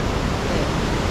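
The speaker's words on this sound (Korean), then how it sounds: "벌써 물소리가 장난이 아니에요" Steady, dense roar of rushing water from Huangguoshu Waterfall in Guizhou, China, swollen by summer flow, loud and continuous with no breaks, close by.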